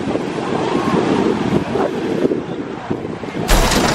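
Wind buffets the microphone on an Alabama beach while surf rolls in steadily, a loud continuous rush with a sharper gust near the end and no clear speech.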